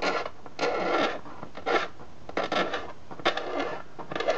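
A blade scrapes paint off the checkerboard binding of a jumbo sunburst guitar body in repeated close, raspy strokes, short bursts separated by brief pauses.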